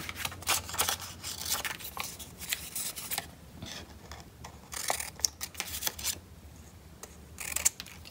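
Scissors snip through card while a square is cut out for a handmade elf Christmas card, a run of close, crisp cuts and rustles with small pauses between them.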